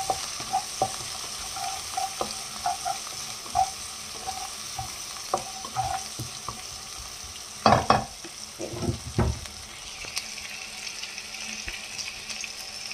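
Salted fish sizzles in a pan with garlic and ginger under a steady frying hiss. Intermittent stirring clatters and scrapes run throughout, with a louder clatter near the middle.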